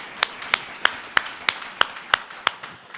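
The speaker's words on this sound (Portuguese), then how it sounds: "Pode aplaudir quem entendeu." A few people in a church congregation clap in a slow, even rhythm, about nine distinct claps in three seconds, close and crisp with no voices.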